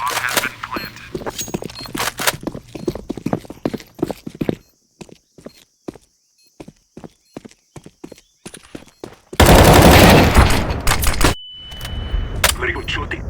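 Gunfire in the shooter game CS:GO comes as bursts of sharp, rapid shots, some close and loud, spaced by short pauses, followed by a dense stretch of loud noise and more clicks.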